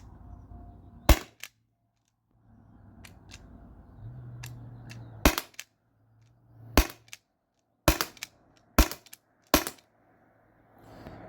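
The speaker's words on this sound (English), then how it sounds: "All right, two-handed shooting, no chronograph, just steel balls" T4E HDP50 Gen2 pistol, two-handed, fires steel balls in six sharp, loud cracks, the last five in quick succession, with faint handling noise and a soft hum in between.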